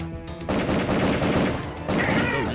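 Gunfire from the PS1 shooter Area 51 rings out in loud, rapid bursts, a short break separating two volleys of sharp repeated shots with little else around them.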